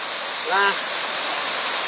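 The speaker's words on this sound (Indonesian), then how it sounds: "Kita dari seberang sungai dan menyusuri sungai Riam seperti ini." The Riam River flows through forest near Bukit Bolau, a continuous close rush of water hiss, with a brief voice-like sound rising over it once.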